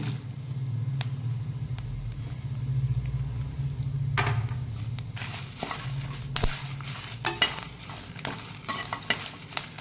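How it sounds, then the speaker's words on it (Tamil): Garlic, green chillies and curry leaves frying in a pan, a low steady sizzle with stirring and scraping that grows busier and clattery toward the end, with sharp utensil clicks and no talking. "லைட்டாக ஃப்ரை பண்ணுவோம்"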